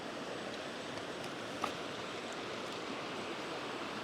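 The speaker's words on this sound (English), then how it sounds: "Well, except for my shoes on the rocks here and the water in the background." Shallow stream water flows steadily in the background as a soft, continuous hiss, with a few faint crunches of shoes stepping on rocks nearby; no one speaks.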